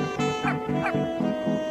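Cartoonish dog barks from the video game Dropsy, a steady run of four or five short, evenly spaced woofs over a constant tonal music-like background, close and clear with no talk.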